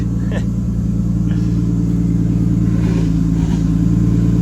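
A Nissan Skyline R33 with an RB25DET engine, its power steering pump failing, idles steadily up close with a constant loud rumble throughout.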